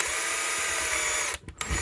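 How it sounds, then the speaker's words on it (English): A power drill whines steadily at close range, then stops and gives a few short bursts near the end. "I'll just give them all an extra bit of drilling."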